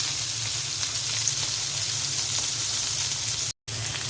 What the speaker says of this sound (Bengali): বেগুন, পটল, টমেটো কেটে নিয়েছি, এখন আমি ভেজে নিচ্ছি।